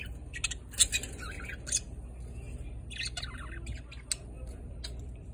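Pet budgies chirp and squawk back and forth in bursts of sharp, bright calls, fairly close, over a steady low background hum.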